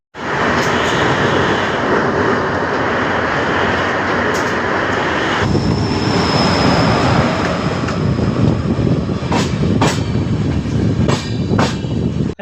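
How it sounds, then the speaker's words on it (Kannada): Train departing Coimbatore station, a loud continuous rumble and clatter of rolling wagons with wind buffeting, sharp clicks of wheels over rail joints growing more frequent toward the end. "ಸ್ಟೇಷನ್ ಬಿಡ್ತಿತ್ತು ಗಾಡಿ."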